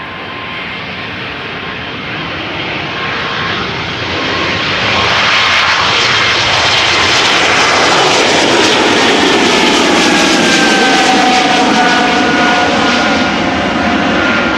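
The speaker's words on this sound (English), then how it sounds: "This is an E2 Embraer to Göteborg." An Embraer E2 jet departs Schiphol bound for Göteborg, a loud close roar that swells after a few seconds into a sustained, full engine thrust with rising whine as it climbs away.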